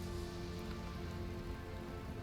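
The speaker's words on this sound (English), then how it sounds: "the rain gets heavier and heavier" Steady rain falling, a dense even hiss of drops on surfaces, soft and continuous with no talk.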